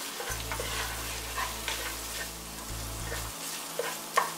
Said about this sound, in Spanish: Vamos a dejar que el jamón y la salchicha también se frían un poco